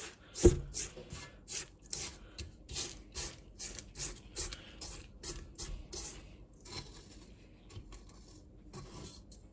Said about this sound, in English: And we'll scrape down the bowl.